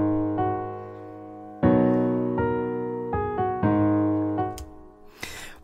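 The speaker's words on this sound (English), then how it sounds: "the melody that I came up with looks and sounds like this" A synthesized beat melody plays back in Logic Pro X, a slow sequence of sustained, tonal notes changing pitch every half second or so, clean and upfront with no voices.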